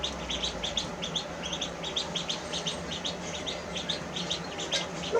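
Young ducklings on a small farm chirp in a rapid, continuous stream of high peeping calls, fairly close and steady throughout, with no talking.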